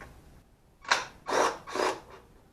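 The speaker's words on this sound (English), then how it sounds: "I am going to go ahead and just use my impact to get these fasteners out." Impact wrench on the bolts of a Mercedes V8 valve cover, three loud close bursts of whirring and rattling hammering, each lasting about half a second, with no talk.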